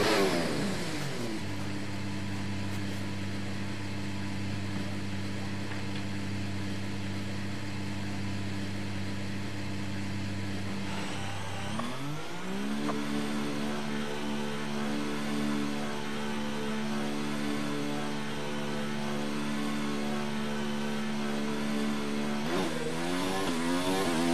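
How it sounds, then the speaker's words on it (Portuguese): A Formula 1 car engine from the F1 2019 game, in practice at the Austrian Grand Prix, holds a steady, buzzing idle, then rises to a higher, sustained rev that wavers slightly, loud and close throughout. "Motor ligado. Estamos prontos."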